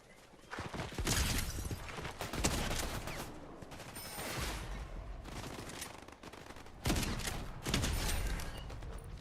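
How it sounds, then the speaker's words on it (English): Video game gunfire in bursts, including rapid submachine-gun fire, with several clusters of sharp shots separated by short pauses, loud and close with little talk over it. "I'm shooting."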